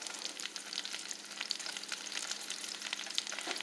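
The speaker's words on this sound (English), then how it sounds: "I'm going to let it saute on each side for about 5 minutes" Cabbage rolls sautéing in coconut oil in a pan, a dense steady sizzle with fine crackles and spits throughout, close and loud, with no talking.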